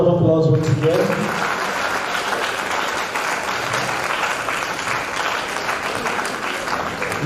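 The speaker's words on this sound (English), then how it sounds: "Please give a big round of applause once again." Hall audience at a career guidance event giving a sustained round of applause, steady dense clapping that follows a short stretch of speech at the start and continues evenly.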